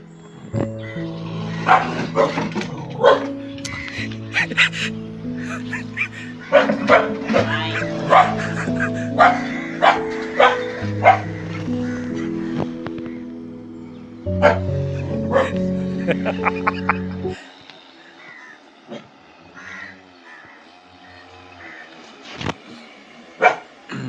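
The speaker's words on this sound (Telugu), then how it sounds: "కుక్క చూడు కుక్క" Pet dog barking: repeated loud yips and barks in bursts, with some whimpering, mixed with people talking and greeting nearby; quieter stretches follow as the barking thins out.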